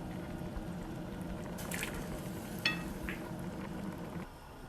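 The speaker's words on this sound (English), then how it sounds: "So now I'm just going to add half a cup of water in here." Half a cup of water poured into a cooking pot of keema for shami kebabs, a soft splashing pour under a steady background hum, with a light clink partway through.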